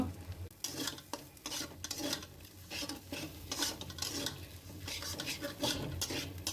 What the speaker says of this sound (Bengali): 3 মিনিটের মতো সব মিক্স করে নেব এবং ভেজে নেব।